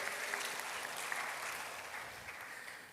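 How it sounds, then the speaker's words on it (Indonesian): A church congregation applauding during a Sunday service, a soft, steady patter of clapping heard from some distance, even and unbroken, easing off slightly toward the end. "tepuk tangan buat Tuhan dulu"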